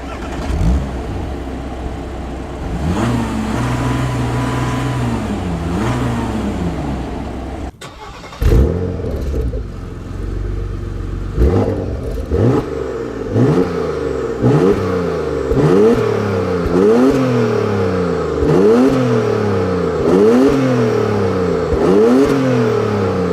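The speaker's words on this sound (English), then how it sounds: "I'm gonna show you what both of these cars sound like when you're revving them" Two Porsche Macans, one an S diesel and one a Turbo, rev in turn: a few long swelling revs, a cut, then a rapid series of sharp rising-and-falling blips, loud and close.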